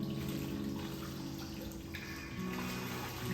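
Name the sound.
mop dipped into bucket of soapy water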